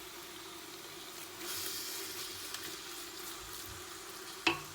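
Carrot halwa fries in a pan with a soft continuous sizzle and scraping stir strokes, closing with one sharp clack of the spoon against the pan.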